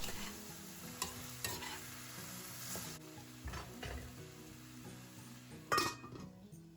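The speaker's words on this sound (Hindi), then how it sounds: "लिड ढक के बीच बीच में 1-2 बार चला भी दूँगी, सब्ज़ी बेस पे लग ना जाए" A spoon stirs masala pumpkin curry sizzling in a pan, with soft scraping and faint clinks of utensil on metal over a low, steady fry, ending in one louder knock.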